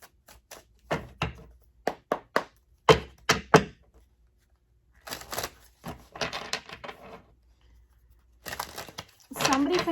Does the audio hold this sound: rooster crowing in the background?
no